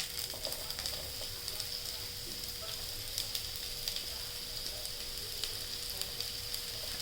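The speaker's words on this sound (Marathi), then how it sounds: "कांदा परतून घेणे" Chopped onion sautéing in a small amount of oil for a dry potato-spinach dish, a steady, faint hiss with light scattered crackles throughout and no voices.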